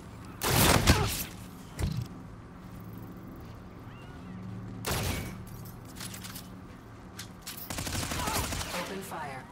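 Bursts of gunfire in a shooter video game around an apartment building, a loud volley early on followed by scattered shots and another heavy burst, with quieter mechanical noise between them.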